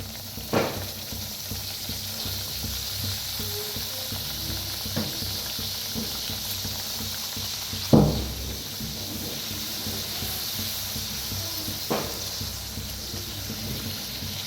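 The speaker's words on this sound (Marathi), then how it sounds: "तेल चांगलं गरम झालेलं आहे तळून घेऊया आपण करंजी" Karanji pastries deep-frying in hot oil, a dense, steady bubbling sizzle that runs throughout, with a few brief louder pops and knocks at intervals.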